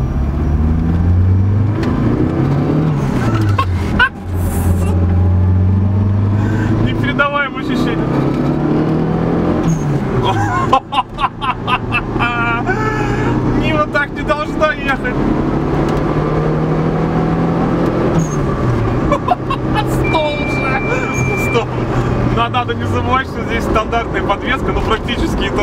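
A turbocharged 200 hp Lada Niva engine runs steadily while driving, its hum rising and falling through gear changes with occasional revs, and people talk over it throughout.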